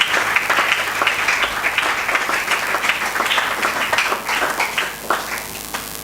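A church congregation bursts into sustained applause, a dense, steady wash of many hands clapping close and loud throughout, with faint voices mixed in.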